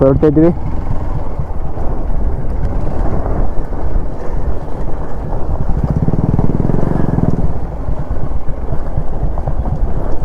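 An off-road motorcycle ridden on a rough rural track gives a continuous low engine rumble, close and loud, with heavy wind buffeting the microphone and voices mixed in.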